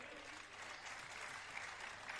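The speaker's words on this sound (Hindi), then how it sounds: "आप सबकी तालियां बजें इसके लिए।" A ceremony audience applauds softly in the distance, a continuous, even wash of clapping from a crowd with faint background murmur throughout.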